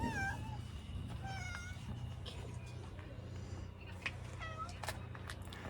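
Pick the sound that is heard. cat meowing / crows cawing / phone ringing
cat meowing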